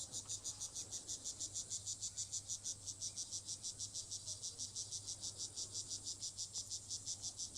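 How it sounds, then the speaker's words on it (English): Crickets chirp in a steady, rapid pulsing trill around a safari lodge, continuous and fairly close, with a low hum underneath and no voices. "You hear the crickets."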